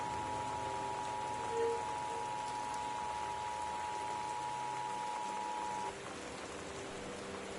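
Steady torrential rain hiss during a storm in the video game Gone Home, a constant wash of rainfall with a faint tonal hum running beneath for most of the stretch before it cuts out.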